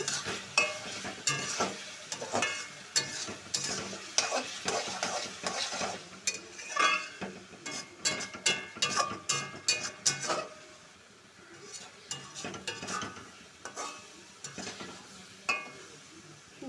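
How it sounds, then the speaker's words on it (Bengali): Ground roasted spices get stirred into hog plum (amra) pickle in a pan, with busy repeated scraping and clinking of a spoon against metal over a low sizzle, pausing briefly near the middle before resuming. "এবার এটাকে ভালো করে মিশিয়ে নেব"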